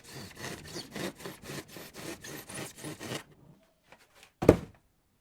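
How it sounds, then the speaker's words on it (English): Bulky insulation is cut into strips for fitting between floor joists, heard as about a dozen quick, even back-and-forth sawing strokes, then a pause and one sharp scrape close by. "The insulation was pretty bulky, so I cut it down into strips which will eventually fit between each of the floor joists."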